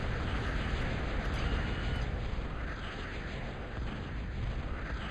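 Missile tower battle in a real-time strategy game: a steady, dense rumble of overlapping explosions and blasts runs throughout, loud and continuous with no clear gaps.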